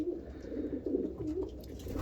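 Racing pigeons coo in soft, repeated low throaty phrases close by, overlapping in a steady rhythm with faint background rustle.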